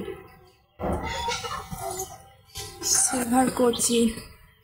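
A Silver Cochin chicken clucks and calls at close range, with a person talking over the bird between its short vocal bursts.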